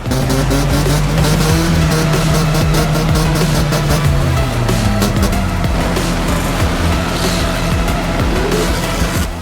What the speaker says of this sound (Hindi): इन गाड़ियों से निकलते धुएं के बादलों और कानों के पर्दों को चाक करती आवाज़ों ने किया शहरियों का बुरा हाल